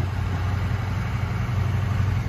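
Steady engine of a tour vehicle driving through Road Town, Tortola, on reclaimed land, a continuous low droning rumble heard close and fairly loud, with no talk over it.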